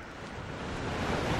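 Sea waves surging and washing in the pixel horror puzzle adventure game The Last Door, a steady broadband roar that swells gradually louder over its length, with wind mixed in and no voices.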